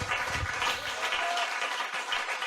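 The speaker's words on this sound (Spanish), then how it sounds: "ese aplauso para mi buen Dios" Church congregation applauding during a service, a steady, fairly close wash of many hands clapping throughout, without any talk over it.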